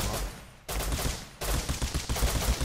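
Automatic gunfire sprays in the survival game Rust in close, loud bursts, two dense volleys broken by a brief pause, with no talk over them.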